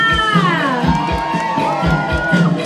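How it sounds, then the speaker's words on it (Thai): A dense crowd of supporters cheers and shouts at a rural boat-racing festival by a creek bridge, loud and continuous, with high excited voices, whoops and rhythmic thumping woven through the roar. "กองเชียร์เราหนาแน่นมากเลยนะคะ"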